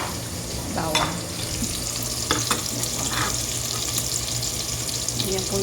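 Steady sizzling and frying of blended garlic in a hot pot, with a few light scraping and stirring clinks over a constant crackling hiss.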